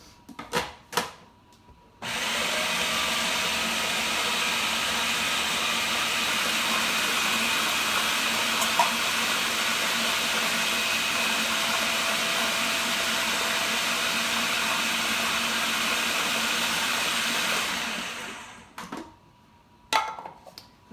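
A blender whirls a low-carb, low-sugar strawberry dessert mix in one steady, loud run of about sixteen seconds, starting and stopping abruptly, with brief clatter before and after.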